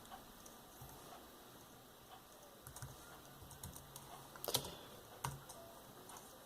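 Quiet, scattered keystrokes on a Mac Mini G4 computer keyboard, typing console commands in Quake 3 Arena, come as irregular light clicks, with a couple of sharper taps near the end against a faint background hiss.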